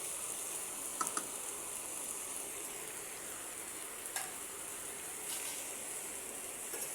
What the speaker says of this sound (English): until the tomatoes simmer, after mashing, we'll cover it on low flame